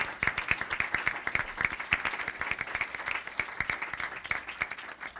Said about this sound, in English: help me give a round of applause to thank her for her tenacious work on this critically important